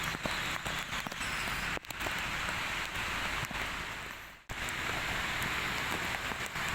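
Heavy rain pours down in Banjarmasin amid street flooding, a dense steady hiss of falling water with a brief dip midway, loud and continuous without speech.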